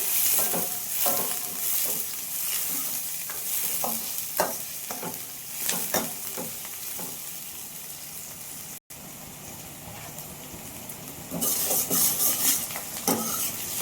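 Chopped onions fry in a pan for a masala vada stew, giving a continuous close sizzle with intermittent scraping stirs, a brief cut in sound partway through, then a louder crackling burst near the end. No one speaks.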